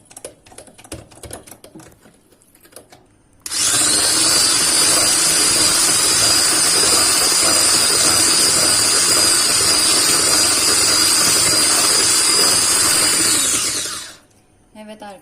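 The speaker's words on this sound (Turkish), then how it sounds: "Ve de mikser yardımıyla" An electric mixer whips cream, whirring loudly and steadily for about ten seconds, starting abruptly and winding down, with light clatter before it starts.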